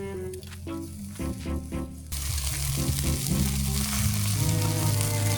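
Food sizzles steadily in a pan at a mountain campsite in Atok, Benguet, a loud continuous fry with scraping stirs and clinks, swelling louder partway through, with no talk.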